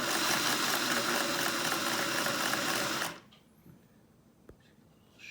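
A 1950s Singer 401A sewing machine stitches at a steady, fast whirring clatter for about three seconds, then stops, leaving quiet room tone with a faint click.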